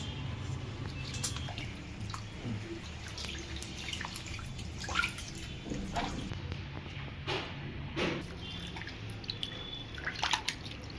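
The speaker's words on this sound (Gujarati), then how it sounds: "બધી શાકભાજી આપણે ધોઈ નાખીએ" Vegetables rinsed in water while preparing lilva tikadi bhajiya, with steady splashing and dripping and scattered light clatters, close and moderately loud throughout without talk.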